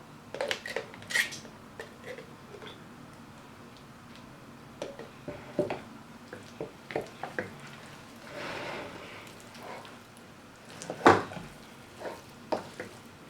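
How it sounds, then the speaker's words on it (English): Potato salad with egg mixed with Miracle Whip in a bowl gives soft, wet squishing and scraping strokes with intermittent clinks of a utensil against the bowl, close and fairly quiet, in irregular bursts. "You want to mix until it almost comes creamy"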